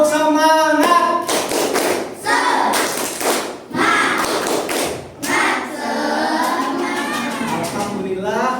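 Schoolchildren in a classroom clap along to a group chant, sharp rhythmic bursts of hand claps and thumps alternating with loud unison voices, close and energetic.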